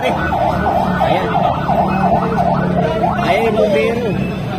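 A fire truck siren wails in repeated rising-and-falling sweeps at a house fire, loud against a steady rumble of traffic and crowd noise. People talk in the background.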